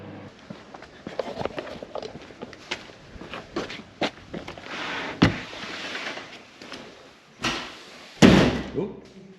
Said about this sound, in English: Slam that door.